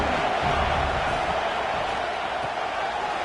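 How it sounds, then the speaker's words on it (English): Steady, dense roar of a large stadium crowd at a USC versus UCLA college football game, broad and continuous with no pauses, loud throughout. "This crowd bringing the energy and noise early."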